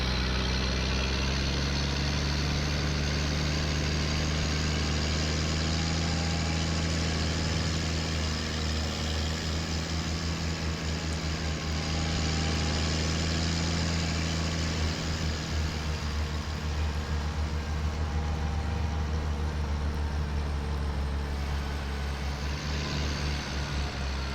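A tractor engine idles steadily in a farming simulation game set in Riesenbeck in early spring, a continuous low droning rumble that holds evenly and close throughout with no talking.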